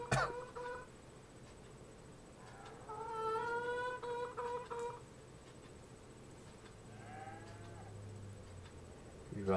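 Cattle mooing in the Farming Simulator 25 farming video game, several drawn-out moos with tonal harmonics in a row, moderately loud over a steady background hum, no talking.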